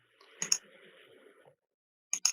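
Computer mouse clicks while working in a web console, two quick close clicks, a pause with faint rustle, then another crisp pair of clicks, quiet and near.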